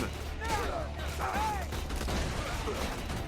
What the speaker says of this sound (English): He's got a fucking machine gun.